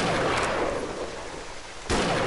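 A single loud, sharp gunshot from a rifle in the hunting video game Treibjagd 3D, a sudden close blast with a long noisy tail, and a second shot breaking in right at the end.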